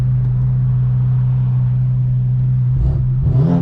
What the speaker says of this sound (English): You guys can hear in this distance a bunch of cars.